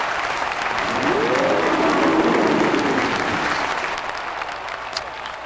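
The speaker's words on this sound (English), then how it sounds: "Give him another round of applause" Studio audience applause at a talk show after a musician's performance, a dense steady clapping from a crowd that swells and then gradually fades, with a faint voice underneath.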